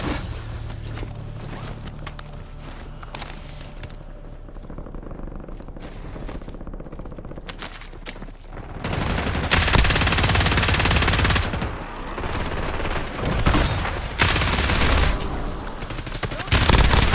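Gunfire in Black Ops 6 Warzone on Verdansk, dense bursts of automatic weapon fire from several guns, loud and sustained over the second half after a quieter stretch of game ambience.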